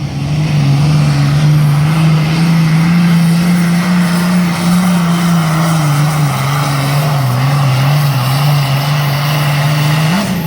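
Turbocharged truck tractor engine roaring through a pull at a semi tractor pulling event in Rockwell, Iowa. It is loud and close, a sustained drone that holds a steady pitch with slight wavers across the whole run, and no talk over it.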